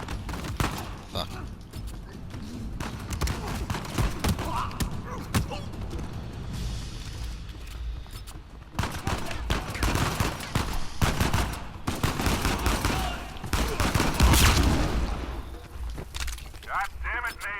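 Heavy gunfire from the Uncharted 4 video game, with dense bursts of automatic shots and single blasts crackling almost without pause, near and loud, with occasional impacts and breaking debris mixed in.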